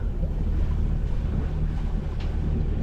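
A sailboat's engine drones steadily while the boat also runs under sail on a Corfu delivery passage, a low continuous hum beneath wind noise and the wash of water against the hull.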